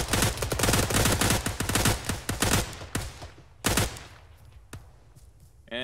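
Full-auto rifle fire in Arma 3 during a combat operation, a rapid close burst of sharp shots for about three seconds, then a short second burst and single distant cracks fading into quieter background.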